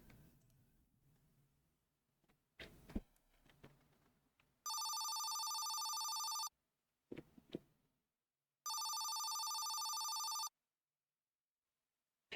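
A telephone in the horror video game One Halloween Night rings in two sustained electronic bursts, each about two seconds long and separated by a pause, clear and alone over near silence with a few faint clicks.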